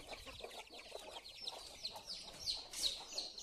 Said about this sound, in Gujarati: હજુ કુકડા વાટ જોઈ રહી છે બહાર નીકળવા માટે